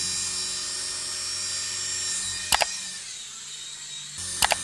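A small flying toy bought from AliExpress lifting off and hovering, giving a steady high-pitched electric whine that holds level throughout, with two brief sharp clicks near the middle and the end, close by and no talk.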